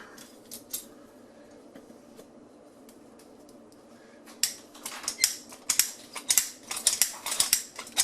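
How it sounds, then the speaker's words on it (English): A small pipe cutter is turned around a sink drain pipe, giving rapid, scraping metallic clicks and ratcheting that grow louder and denser in the second half after a quiet start. "Same thing, my little cutter going again."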